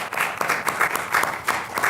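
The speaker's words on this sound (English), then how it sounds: "If we could give them a big round of applause" Sustained applause from a crowd at a public forum, a dense steady patter of many hands clapping together, fairly close and continuous throughout.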